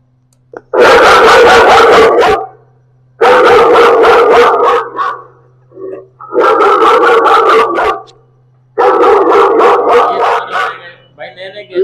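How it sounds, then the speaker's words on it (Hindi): An electronic security gadget for a shop plays recorded dog barking in four loud bursts of rapid barks, with quiet gaps between them and a constant low hum underneath. "वो साउंड है डॉग वाली आवाज देके स्टार्ट होता है।"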